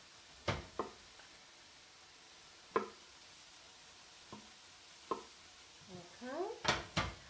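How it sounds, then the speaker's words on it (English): Lentils are added to a pan with the first four ingredients, giving several sharp utensil clinks and scraping taps against the pan over a faint sizzle, ending in a quick cluster of stirring knocks. "let's check on our first 4 ingredients here and add in our lentils"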